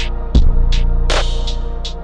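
Hip-hop beat hook resampled and stretched to twice its length as a half-time effect, pitched down: a deep, steady bass throb with a loud low hit near the start and repeating bright stabs in a slow, even rhythm.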